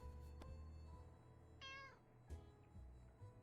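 A single short cat meow from the video game 60 Seconds! Reatomized, clear and close, with a few soft knocks and thumps before and after it.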